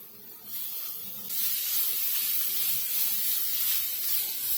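Onion and coriander frying in a pan for red amaranth leaf curry: a broad, even hiss that swells louder partway through and then holds steady, close by with no voices.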